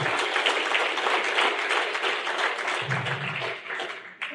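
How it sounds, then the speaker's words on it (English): A crowd at a groundbreaking ceremony breaks into sustained applause, dense clapping that holds steady and then gradually thins out near the end. "The Howe family, based in Muscatine, let's give them a round of applause."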